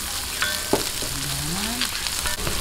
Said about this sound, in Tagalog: gisa-gisahin lang po natin ang bahagya. Ilalagay ko na po itong sibuyas na white